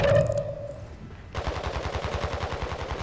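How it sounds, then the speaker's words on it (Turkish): Rapid bursts of automatic gunfire in Call of Duty Warzone 2.0 with echoing reports, starting after a brief quieter stretch and continuing in a steady rattling stream. "Nasıl silah sesleri geliyor."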